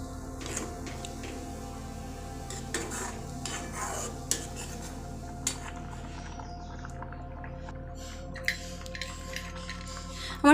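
A spoon scrapes and stirs a pot of potato payesh cooking on a gas stove, with scattered clinks of metal on the pot and a low steady hum beneath.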